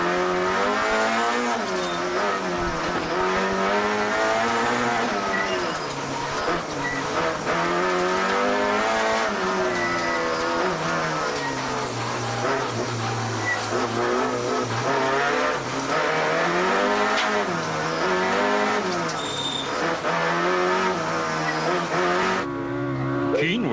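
Inside Damso's Runnex rally car during the 2004 Rally of South Africa, the engine rises and falls steadily through gear changes for the whole stretch, loud and close, with occasional tire and gravel noise.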